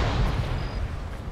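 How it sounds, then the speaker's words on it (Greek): Low, rumbling blast of a thrown grenade going off in the Counter Terrorist video game, a dense boom that rolls on steadily for over a second with no voices over it. "Στην ωραία έκρηξη. Good Jason throw."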